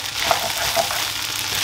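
A stir-fry with soy sauce and oyster sauce being mixed in a hot pan, a loud continuous hiss of sizzling with a couple of faint utensil taps, close by.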